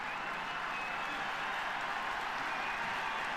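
Stadium crowd at a Gaelic football match, Cork against Kerry, cheering as an injured player leaves the field; a broad, steady roar of voices with some applause, sustained at even loudness throughout.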